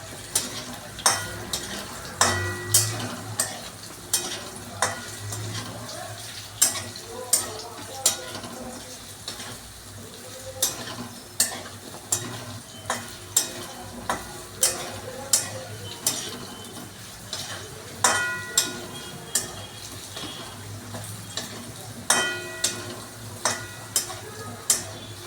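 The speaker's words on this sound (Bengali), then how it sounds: "যতক্ষণ না ভাজা হবে আমি তেল থেকে তুলবো না" Potato pieces frying in oil for a potato and jackfruit kalia, a low continuous sizzle broken by regular sharp clacks and scrapes of a spatula stirring against the pan throughout.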